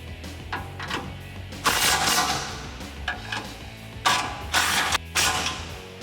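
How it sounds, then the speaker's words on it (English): Ratchet with a 17mm socket tightening nuts while a heavy-duty rear bumper goes onto a 2015-2018 Ford F-150, uneven bursts of clicking and metallic rattling, close, with no talk. "we're going to finish tightening these two nuts off with that 17mm socket"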